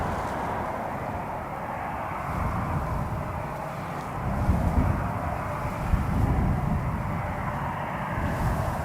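An A319 airliner at Toronto Pearson Airport on a cold, gusty day produces a steady low engine rumble that swells slightly midway, heard from a distance with no talk.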